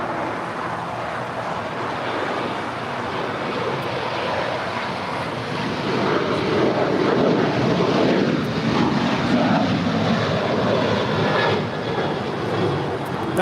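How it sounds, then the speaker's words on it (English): A United airliner departs LAX for Denver, its jet engines producing a steady broadband roar that grows louder midway through and holds, heard alone without speech. "That was United 1241 departing to Denver"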